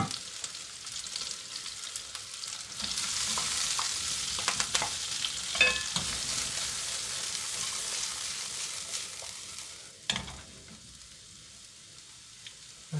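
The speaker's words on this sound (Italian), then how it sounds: "la cipolla, e lasciamo rosolare." Chopped onion sautés in a pan for a Sicilian pumpkin caponata, giving a steady close sizzle with brief stirring scrapes, then quieter frying near the end, no voices.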